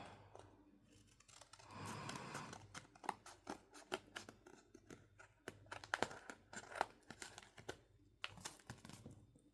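Scissors snip through paper for a yearbook-locker scrapbook page, a series of close, quiet cuts and crinkles with brief pauses between strokes.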